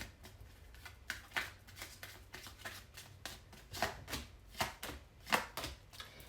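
Tarot cards are shuffled close up, a series of quick papery riffles and soft taps in an uneven rhythm, fairly quiet and with no talking.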